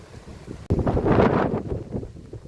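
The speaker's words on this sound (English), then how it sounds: "Very breezy, as you can see." Breezy wind gusts across an outdoor holiday resort setting among trees, a loud, sustained rushing buffet of wind on the microphone that builds suddenly and holds steady, with no voices.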